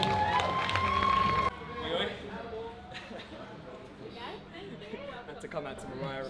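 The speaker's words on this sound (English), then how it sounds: "Give Yucel a big round of applause as he leaves the stage" Audience applause and cheering at a bodybuilding and fitness show, loud crowd noise with music at first, then scattered clapping and chatter under an announcer's voice.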